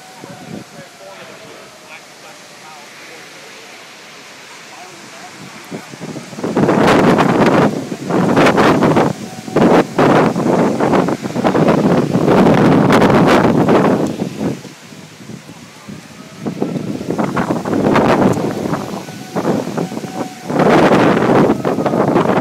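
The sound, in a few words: heavy wind blowing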